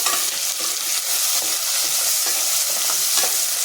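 Chopped tomato sizzles loudly in a hot frying pan while a utensil scrapes and stirs in an irregular rhythm, with no voices.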